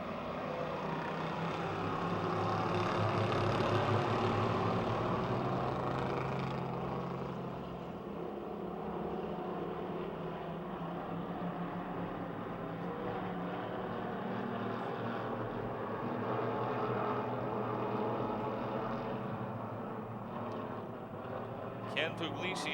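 Race cars roar through a night race at Pennsylvania Motor Speedway near Pittsburgh, a steady loud engine drone swelling and easing as they circle, with an announcer talking over it throughout.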